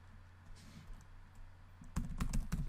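Someone types on a computer keyboard, with faint scattered keystrokes at first and then a quick, close burst of clicks toward the end.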